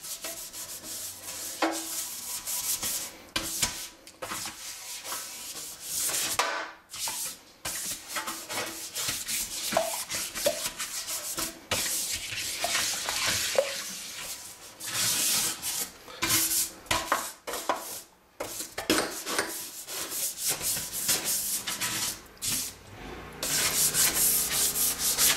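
A scrub brush scours a stainless steel kitchen sink with continuous, close, rough rubbing strokes that vary in intensity, brief pauses breaking the scraping rhythm.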